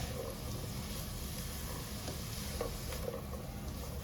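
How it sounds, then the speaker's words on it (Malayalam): Chicken pieces stirred and frying in a pan for shawarma filling, a steady sizzle under irregular scraping strokes of the spoon, close and fairly quiet, no talk. "ചിക്കൻ ഇട്ടിട്ട് നന്നായിട്ട് ഇളക്കുക"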